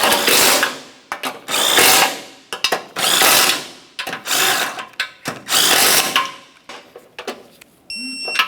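A power tool snugging the bumper mounting bolts on a 2012–2015 Honda Civic, buzzing in about six loud, close bursts of roughly a second each, separated by short pauses and a few small clicks.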